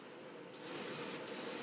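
Duracoat paint sprays steadily from a nozzle onto a part being prepped for hydro dipping, a continuous close hiss broken by a brief pause and restart.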